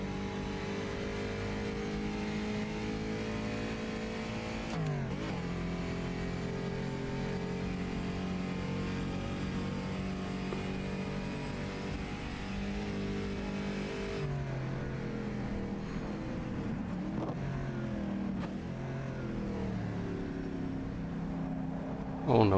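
Race car engines in the game Carrera Mundial 1954 at Longford, a season opener, droning steadily with layered tones and occasional shifts in pitch as gears change, fairly faint throughout.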